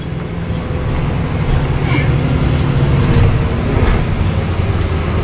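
Interior rumble of a bus driving through Bethlehem, a steady broadband engine and road noise held at an even level throughout, with faint talk in the background.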